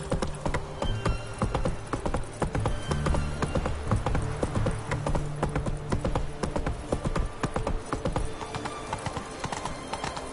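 Roach, Geralt's horse in the video game The Witcher 3, trots with a steady, fast clip-clop of hooves, close and loud, over a low ambient drone, with occasional neighs mixed in.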